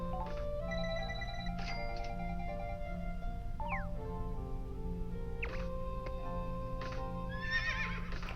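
A rental horse whinnies in the game Fantasy Life's synthetic soundtrack, with a clip-clop rhythm and bright chiming tones over a steady low hum.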